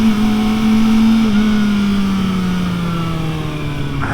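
Kawasaki ZX-4RR motorcycle engine held at a loud, steady high-rev buzz from onboard, pitch dipping slightly with quick-shifter changes and no pause in the drone.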